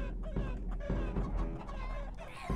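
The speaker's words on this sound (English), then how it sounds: "Here comes the giant chicken man" A giant chicken man in the video game Totally Accurate Battle Simulator clucks in a string of loud, close, throaty bursts over game noise.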